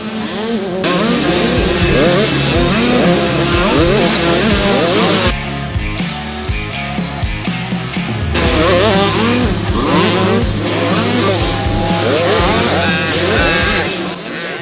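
Several 50cc motocross bikes rev hard around a dirt track and over jumps, two-stroke engines whining and rising in pitch, blipping the throttle and dropping briefly quieter midway before surging loud again.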